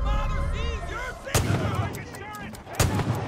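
A grenade goes off in Far Cry 5 multiplayer, one sharp loud blast followed moments later by a second heavy burst, with voices talking in between and around the explosions.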